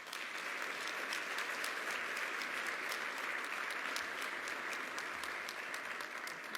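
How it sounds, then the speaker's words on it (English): An awards-ceremony crowd applauds steadily in honor of Bob Samuels, dense even clapping with crisp individual claps standing out, sustained at a constant level from start to finish. "Let's honor Bob Samuels now with a round of applause."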